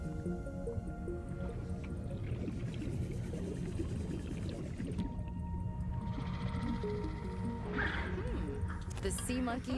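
Sea monkey creatures in the underwater game Subnautica Below Zero call with warbling, whale-like tones amid a dense, watery, bubbling game soundscape that runs continuously under a moderate level.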